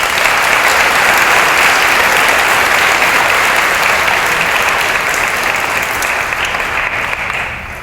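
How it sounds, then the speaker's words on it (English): A graduating class of 2014 applauding at a baccalaureate Mass, a loud, dense, sustained roar of many hands clapping together in a large hall, fading slightly in the last second. "Please give yourselves a round of applause."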